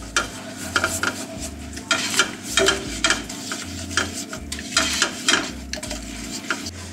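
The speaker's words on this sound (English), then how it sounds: "You're going to cook that flour in that butter." Flour cooks in melted butter for a mac and cheese roux, a soft frying hiss under repeated scraping strokes of a utensil stirring against the pan in an uneven rhythm, close and fairly loud.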